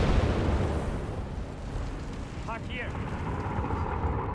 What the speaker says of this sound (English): Starstorm by the center being absolutely bombarded.